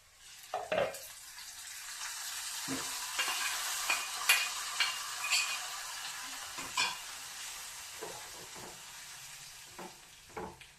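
Fried seasoning poured into a pot of curry, giving a continuous sizzling hiss with scattered stirring clinks and taps of a spoon against the pot, close and fairly quiet.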